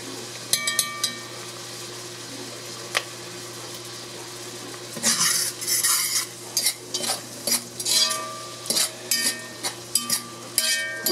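Crushed garlic and spices cooking in a pan, a low steady sizzle that gives way to bursts of stirring scrapes and utensil clinks against the pan, close by.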